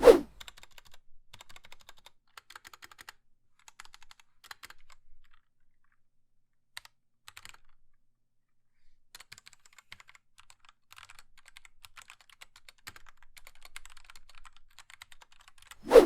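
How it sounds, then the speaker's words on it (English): Steady typing on an RK84 75% mechanical keyboard with brown switches, soft tactile key clacks in bursts with brief pauses, close and fairly quiet with no talking. "Here is a quick sound test of the brown switches on this keyboard."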